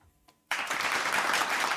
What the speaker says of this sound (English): let's send him off with some lively applause